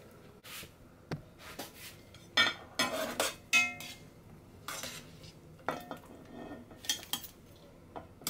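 Plates and dishes are handled in a home kitchen, producing a series of sharp ceramic clinks and scraping clatters in irregular bursts, close and fairly loud, with no talking.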